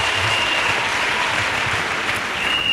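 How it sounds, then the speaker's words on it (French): A congregation at a church gathering applauding for Jesus Christ, steady sustained clapping from a large crowd that fills the whole stretch evenly, loud and close, with no voices rising above it. "Acclamons pour Jésus-Christ."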